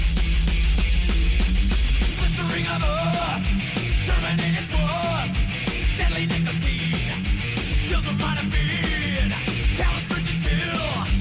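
Dense, loud rock music from 1988, with rapid, continuous low double bass pedal drum hits, distorted guitars and a wailing high lead throughout.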